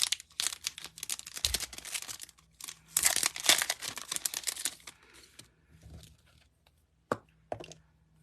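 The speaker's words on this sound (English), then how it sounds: "I'm just gonna grab, these are the iridescent foil gems." A packet of iridescent foil gems being handled for cardmaking, close crinkly rustles of plastic and foil in irregular bursts with quiet gaps.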